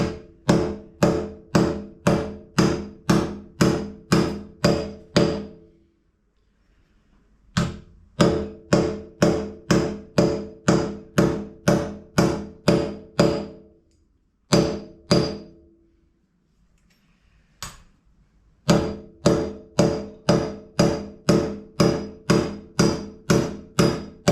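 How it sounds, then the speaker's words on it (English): Sharp copper mallet blows drive wheel studs into a hub in rapid rhythmic bursts, three long runs of taps separated by pauses and a few single knocks. "You'll hear the tone change as the stud hits the bottom of the flange."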